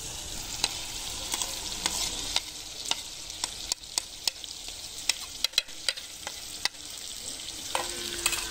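Spices including crushed chili, salt and cumin fry and get stirred in a pan, giving a soft continuous sizzle broken by sharp scraping clicks of a spoon against metal.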